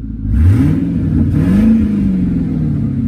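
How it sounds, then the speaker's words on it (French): An all-original, naturally aspirated V8 in an American Lincoln stretch limousine revs up in a single blip, its deep rumble rising in pitch, then holds a steady, slightly rough idle close by with no talking. "V8 Atmo d'origine. Une vraie américaine qui fait du bruit"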